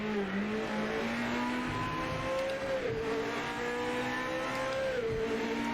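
GT500 race car engines in Project Motor Racing, a high rising and falling engine whine with layered harmonics shifting through revs and gear changes, steady and fairly quiet throughout.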